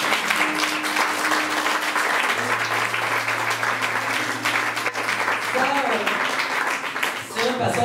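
A church congregation applauding during a French sermon, sustained clapping mixed with voices and a low held tone beneath, fairly loud and continuous.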